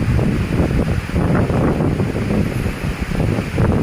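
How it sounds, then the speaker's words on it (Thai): Heavy night rain and strong wind make a dense, steady roar with gusts buffeting the microphone, loud and continuous throughout. "มีทั้งลมมีทั้งฝนนะครับ"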